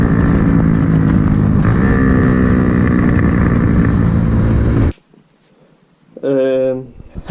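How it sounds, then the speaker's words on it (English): A Honda Grom MSX 125 motorcycle with a loud aftermarket exhaust roars steadily close by, cuts out abruptly, then a short revving burst follows after a pause. "It's got an absolutely obnoxious exhaust system on it that pops all the time"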